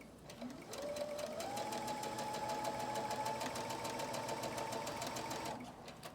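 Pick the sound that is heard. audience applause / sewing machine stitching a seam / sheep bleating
sewing machine stitching a seam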